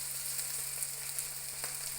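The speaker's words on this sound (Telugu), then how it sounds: "తాలింపులో మళ్ళీ బటర్ వేసుకున్నాను" Tempering spices sizzle steadily in hot butter in a pan, a close, continuous frying crackle with no voices.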